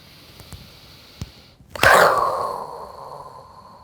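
A single forceful exhaled breath imitating an exploding volcano, a sudden loud whoosh that trails off over about a second after a few faint earlier sounds.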